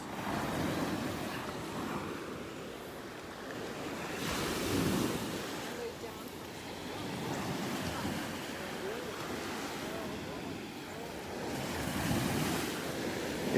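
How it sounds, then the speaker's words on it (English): Ocean waves roll onto a beach in North Naples, Florida, a steady close wash of surf that swells and recedes, mixed with wind buffeting the microphone. "Listen to those waves."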